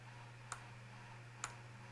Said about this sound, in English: I'm just going to hit the backslash key on my keyboard.